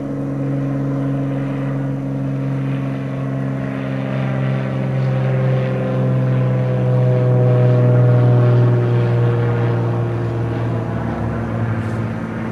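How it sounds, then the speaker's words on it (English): A propeller airplane drones steadily overhead for the whole stretch, its engine hum swelling gently toward the middle and fading slightly, heard alone outdoors at night with no talking. "this looks like an airplane"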